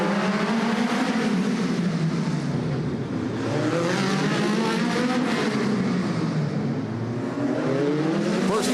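Race car number 59 at the Rumble in Fort Wayne, an indoor event in the Allen County venue, loudly running a timed lap, its engine droning and shifting pitch continuously as it circles close by, with crowd noise beneath.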